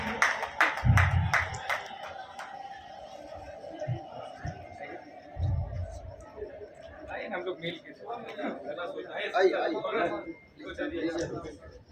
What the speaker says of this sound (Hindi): जोरदार तालियां हो जाए अमित जी के लिए